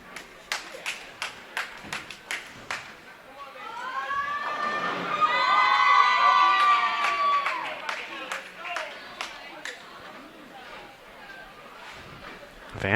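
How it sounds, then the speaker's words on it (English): FDU fans cheer and clap at a college bowling match, a swelling crowd roar with scattered sharp claps that builds, peaks and fades, under an announcer's commentary. "And the FDU crowd goes wild."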